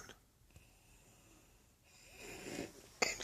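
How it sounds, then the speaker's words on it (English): Snoring from someone asleep on a cigar box, with rough breathy snorts building louder toward the end and a sharp burst near the close, heard up close with no talking. "And you're snoring."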